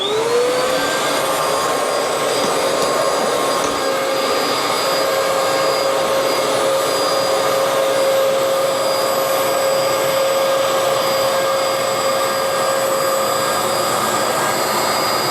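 A Bissell Powerglide Pet vacuum cleaner runs steadily and loudly close by, a continuous motor roar with a high whine that holds without break and no talk over it.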